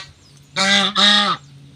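A Chinese goose gives two loud, close honks in quick succession, harsh and nasal with a short pause between them, against a quiet background.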